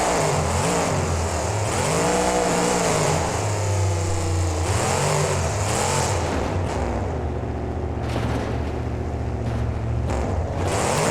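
A monster truck engine in the BeamNG video game revs and surges continuously, its pitch sweeping up and down as it throttles through reverse donuts, loud and close with no talking.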